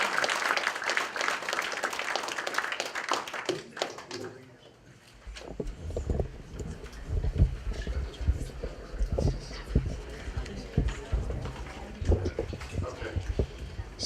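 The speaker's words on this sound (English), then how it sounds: "Please give our Olympia City Council candidates a huge round of applause." An audience at a city council candidate forum applauds in a dense burst for about four seconds, then the clapping thins into scattered claps and crowd murmur with some voices.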